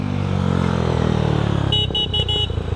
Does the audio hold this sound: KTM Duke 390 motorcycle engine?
yes